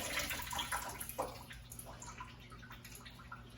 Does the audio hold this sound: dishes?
no